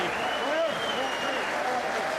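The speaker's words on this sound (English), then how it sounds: "And the fans all applaud" Boxing fans applaud after a fight, a steady wash of clapping from a large crowd with a commentator talking over it throughout.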